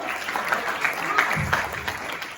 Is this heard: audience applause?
yes